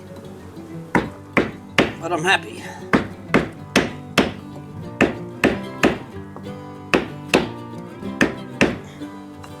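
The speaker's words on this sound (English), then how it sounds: "All this hammering and banging and crashing." Hammering and banging on a brick wall during a beehive removal: about fourteen sharp, loud blows land at an irregular pace of roughly one to two per second. Someone talks briefly between them.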